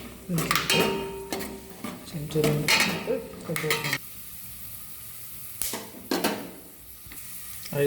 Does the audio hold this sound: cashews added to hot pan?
yes